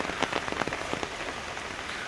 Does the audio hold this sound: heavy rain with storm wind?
yes